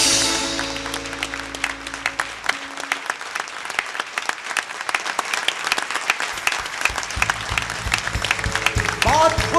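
A television game show studio audience gives sustained applause in tribute to a martyr, dense, vigorous clapping that builds and continues for the full length over a fading musical tone at the start.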